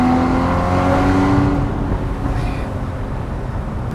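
Porsche 981 Boxster Spyder engine running loud and steady while driving, a rich harmonic drone that eases off slightly partway through, with no talk over it.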